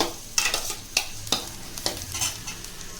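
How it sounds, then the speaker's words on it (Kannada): Garlic frying in a pan with chana, sizzling steadily while a spatula strikes and scrapes the pan in several sharp, irregular stirring knocks, close up and without voices. "ಈಗ ಸ್ವಲ್ಪ ಬೆಳ್ಳುಳ್ಳಿ ಸೇರಿಸ್ಕೊಳ್ಳೋಣ. ಇದನ್ನು ಕೂಡ ಚೆನ್ನಾಗಿ ಫ್ರೈ ಮಾಡ್ಕೊಳ್ಳಿ"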